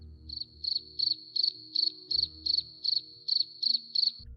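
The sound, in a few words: crickets chirping sound effect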